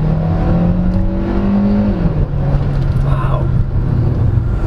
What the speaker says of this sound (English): turbocharged engine. Wow. Wow, look how fast you go. And it sounds good too.